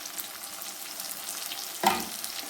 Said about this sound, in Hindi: अब सारा मसाला हम अच्छी तरह भून लेते हैं।